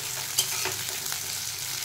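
Dried chillies and black cumin fry in hot oil for a tempering, giving a steady close hiss and crackle with a brief sharp pop, mixed with light stirring.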